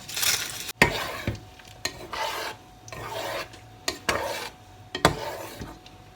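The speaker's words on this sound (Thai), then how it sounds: "พอกะทิเดือดปุดๆนะคะ ก็ใส่หอมแดงลงไปค่ะ" Shallots being stirred into boiling coconut milk for a Thai shrimp dip, quiet rasping scrapes of a spoon against the pot in uneven strokes over a soft bubbling simmer.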